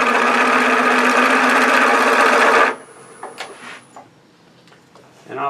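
A texturing tool cuts into spinning wood on a lathe while turning a medallion ornament, giving a loud, steady rasping buzz for under three seconds that stops abruptly, followed by faint handling clicks and quiet room noise.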